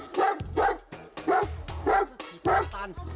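A Husky and a Great Dane bark loudly and close by, in a run of about six deep, evenly spaced barks with short gaps between them.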